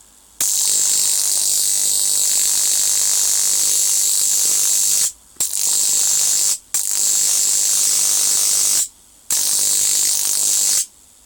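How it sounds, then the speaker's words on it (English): A high voltage ignition transformer salvaged from a scrapyard arcs in loud, harsh buzzing bursts, four sustained crackling runs separated by short silent gaps, close and dominant with no talk. "You know that arcing noise?"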